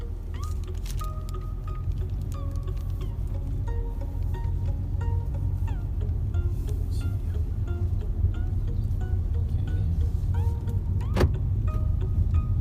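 A 2020 Honda HR-V Special Edition pulls away and drives, with a low, steady engine and road rumble heard from inside the cabin, some faint clicks and beeps, and occasional talk.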